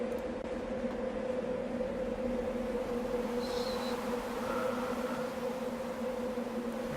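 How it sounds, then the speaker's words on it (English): A loud, steady electrical buzz drones on without a break in the Darkness Within 2 video game, a constant two-tone hum that carries through unchanged, with no voices. "Starts to hear a very loud buzzing sound."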